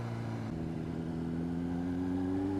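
A Honda CBR600RR motorcycle engine drones steadily while engine braking at about 15 mph, a close, low engine hum whose pitch shifts slightly partway through, heard alone without talk.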